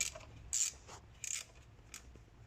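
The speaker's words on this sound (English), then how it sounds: "We're going to take these Torx bolts out" Ratchet working Torx T25 bolts out of the gearbox oil sump on a Range Rover P38, giving a few brief close clicking bursts in a quiet garage.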